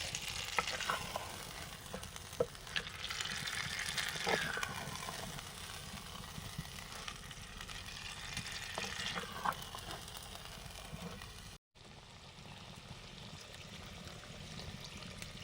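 Spiced boal fish frying in a pan, a steady close hiss and spatter of oil with stirring sounds, briefly cut by a short gap near the end.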